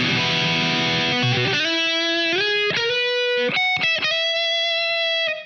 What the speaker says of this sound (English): I can maximize the distortion without having it too gainy.